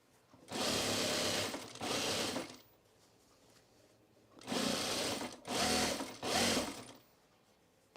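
Sewing machine stitching fabric bowl cozies in bursts: two short runs, a pause, then three more runs of loud, close motor whir with quiet gaps between.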